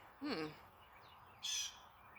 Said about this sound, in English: Yeah, that bird is making noise.